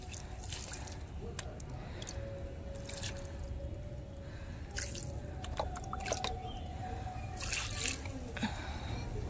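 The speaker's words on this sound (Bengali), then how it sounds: "তো এখন গাছগুলোতে একটুখানি জল দেবো, অল্প করে দেবো" Water is poured onto soil while watering a few potted plants, with soft splashes and squishy dripping in separate bursts over low background noise and faint voices.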